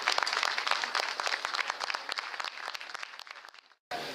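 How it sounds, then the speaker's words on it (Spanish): An audience claps steadily in a lecture hall in response to a call for applause for an environmental speaker, sustained and fairly even before tapering off, a brief silence, then a sudden loud burst at the very end. "les pido un aplauso para Mireya"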